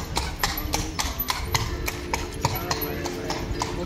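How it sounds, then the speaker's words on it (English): Horse hooves clop in a steady, even rhythm on a hard street in Ghent, Belgium, each sharp knock close and clear over low background noise. "And a horse along the street"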